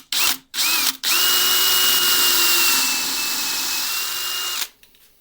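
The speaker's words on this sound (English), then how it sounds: "So we'll get this on the lathe and" A wood lathe spins a hard, firm block of pressed wood shavings, a loud steady whine that starts after a few short bursts, holds a level tone, then cuts off near the end.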